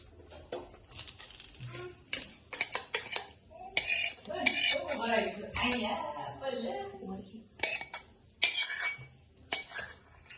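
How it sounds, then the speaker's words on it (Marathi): A metal spoon scrapes and clinks against a pan and dish while roasted semolina is transferred for carrot upma, giving irregular scratching and sharp taps close by. "इथे आपला रवा भाजून झालेला आहे तो आपण आता एका डिशमध्ये काढून घेऊयात"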